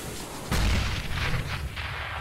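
A grenade explodes in a video game: a single loud, deep boom lands sharply, then a rumbling tail with scattered pops and crackles fades over the next second or so.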